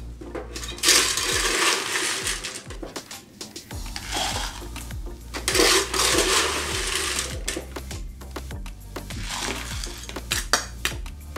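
Ice cubes clink and tumble into a zombie Collins glass while a cocktail is poured, a busy run of close, bright rattles and knocks with no talking.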